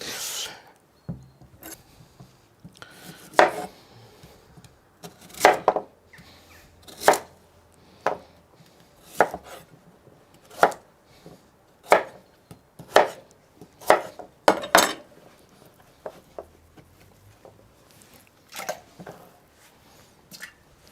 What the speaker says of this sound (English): So I will cut all those vegetables except the onions, put them in cold salted water, and make a boil